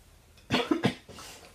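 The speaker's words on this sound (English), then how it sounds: "Sorry, I'm clearing my throat so much." A person clears their throat with two quick, rough coughing bursts, close and fairly loud, followed by a softer exhale.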